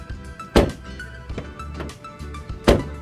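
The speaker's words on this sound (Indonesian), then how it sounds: "denger deh nih suara pintu ditutupnya" A Toyota Raize/Daihatsu Rocky car door shuts with a heavy thunk, followed by quieter knocks and a second solid slam near the end, close and loud with no talking.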